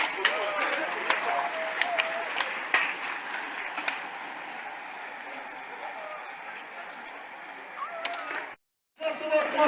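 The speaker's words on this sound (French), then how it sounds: "on peut les applaudir très fort" Spectators applauding riders at the start of an amateur FSGT cycling race in Gaillac, scattered claps over crowd noise, with people talking throughout and a brief cut near the end.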